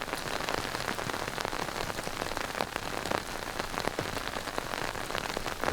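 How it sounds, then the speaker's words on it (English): Steady rain pours down across a golf course, a dense, continuous hiss with scattered close drops pattering throughout and no voices. "And this rain is just not letting up."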